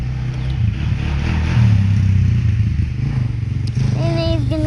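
Kawasaki KFX400 quad engine running on a test drive, a steady low rumble that swells briefly and holds at moderate distance, with faint voices and a short rising whistle-like tone near the end.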